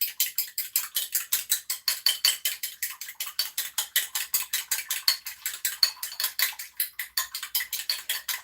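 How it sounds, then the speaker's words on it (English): A fork whisks an egg in a bowl, clicking rapidly and evenly against the sides at about four strokes per second, close and alone without talk. "I just have a fork, and I'm just going to whisk this egg up a little bit."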